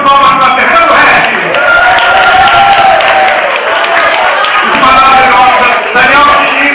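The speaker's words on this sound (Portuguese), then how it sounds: "Pessoal, uma salva de palmas para Fernando Resc." An audience at a gafieira dance night in Rio de Janeiro applauds for Fernando Resc, loud, close clapping mixed with crowd noise and cheering, while voices talk over it.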